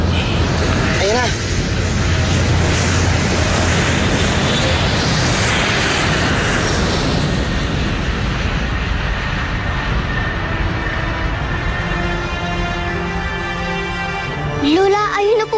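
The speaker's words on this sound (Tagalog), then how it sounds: "ayun na po ba ang eroplano natin?" A propeller airplane approaches with a steady, loud engine roar that builds over the whole stretch, while excited voices shout and talk over it.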